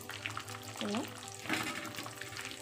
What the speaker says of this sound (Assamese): এতিয়া মই ডাঙৰকৈ কাটি থোৱা পিঁয়াজখিনি দি দিলোঁ